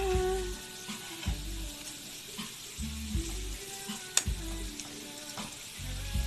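French fries frying in oil, a continuous soft sizzle with low bubbling pulses and occasional utensil clinks, close by and without talk.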